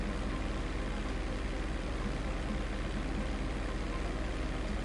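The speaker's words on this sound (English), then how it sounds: "I'm not liking the sound of that engine." Plane engine in GTA Online running rough and struggling, a steady loud droning hum with no break, heard alone with no talk.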